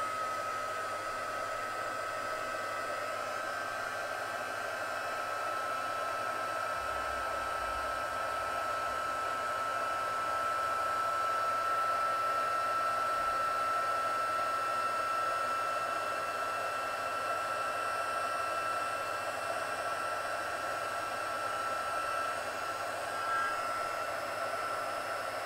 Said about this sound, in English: I'm going to get my heat tool